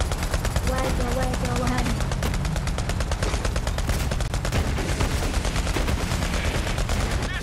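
Heavy automatic gunfire from the video game Borderlands 3, dense rapid bursts filling the whole stretch at close range, with a brief spoken question layered under the shooting.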